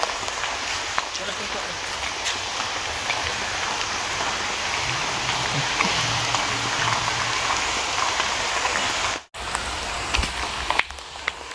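Rain pours steadily at Zoo Melaka in Malaysia, a dense, close hiss of drops drumming on surfaces. Faint voices speak underneath, and a brief drop-out comes near the end.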